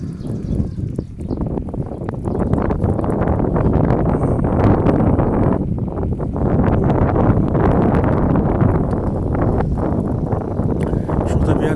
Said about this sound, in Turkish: Hafiften esinti var